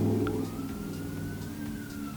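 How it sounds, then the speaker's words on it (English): Emergency vehicle sirens sound outside, a steady tone sliding slowly upward over a low rumble of traffic, heard at a moderate distance. "there's more sirens coming"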